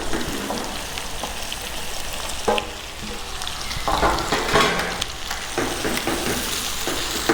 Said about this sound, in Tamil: அடுத்து இப்போ வெஜிடபிள் போடுறோம்.